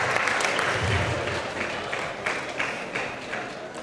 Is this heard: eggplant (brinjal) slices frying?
no